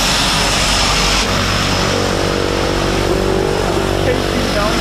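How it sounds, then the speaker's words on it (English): A loud, steady engine drone fills the inside of a propeller plane carrying skydivers up for a wingsuit jump, with people talking beneath the constant roar. "In the plane right now."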